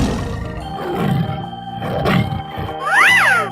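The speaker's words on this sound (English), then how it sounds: "Tiger." Growling tiger roars in a game soundtrack swell and fade in low, rumbling bursts, followed by a bright, rising and falling electronic whoosh near the end; no voices are heard.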